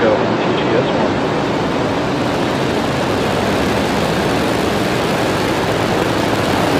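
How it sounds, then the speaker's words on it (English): A SpaceX Falcon rocket ignites and lifts off carrying the MTG-S1 European weather satellite, a loud, continuous broadband roar that holds steady throughout with no break. "Ignition and liftoff. Go Falcon, go MTG-S1."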